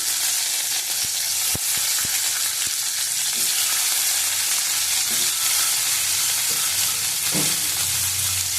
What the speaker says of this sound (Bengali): ডিমগুলি দিয়ে দিলাম।